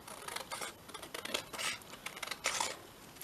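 Scissors cut out paper for a vintage shabby-style journal, making a quiet, close series of crisp snipping and rustling strokes in quick irregular succession.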